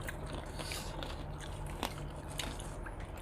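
Close, crunchy chewing and biting of spicy Thai papaya salad with cuttlefish, with several wet crunches and squishes over a noisy background and no talking.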